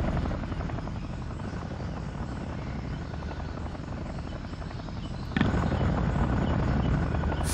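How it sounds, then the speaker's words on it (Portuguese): Helicopter in a Vietnam War video game, a steady buzzing rotor drone that holds constant and then grows slightly louder near the end, with no talk over it. "Esse helicóptero tem que ir pra casa."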